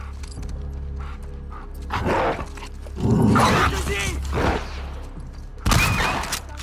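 A dog barks in the video game The Last of Us Part 2, giving short loud bursts over a steady low game ambience, with sharp impacts cutting in near the end.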